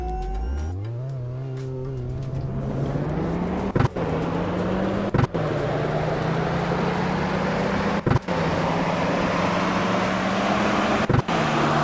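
A Toyota Prius in the Roblox game Greenville accelerates hard, its engine tone climbing steadily, with a few sharp loud bangs breaking through before braking; no talking.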